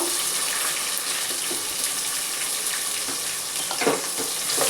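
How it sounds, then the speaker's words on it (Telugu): Garlic and onions fry in oil for a fish curry. They give a constant, close, hissing sizzle with occasional stirring clinks, and no voices are heard. "ఇప్పుడు వెల్లుల్లిపాయలు ఉల్లిపాయలు వేస్తున్నాను"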